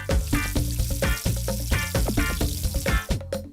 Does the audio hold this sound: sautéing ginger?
yes